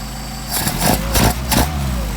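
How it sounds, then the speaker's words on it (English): A Mercedes 190SL engine fitted with Solex 44PHH carburetors runs close and loud at a rough idle, then rises in several quick throttle blips about a third of a second apart before settling back. "we also will blip the throttle to make sure we're not too lean"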